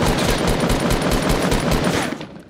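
Automatic gunfire in the video game Fortnite Battle Royale, a loud, rapid stream of evenly spaced shots that runs continuously before cutting off near the end.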